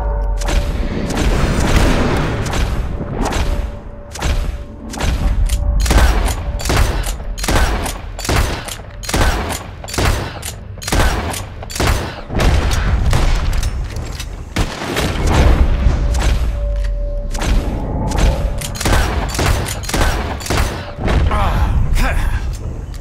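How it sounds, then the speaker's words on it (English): Shotgun blasts at birds in Red Dead Redemption II, many loud booming shots in uneven bursts over more than twenty seconds, with game voices talking among them. "As soon as you see them, start shooting."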